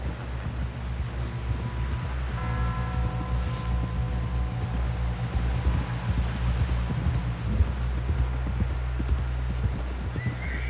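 Horse hooves clip-clop at a steady walk in the Red Dead Redemption 2 video game, moderately close under wind and background ambience, with a brief whinny-like tone early on.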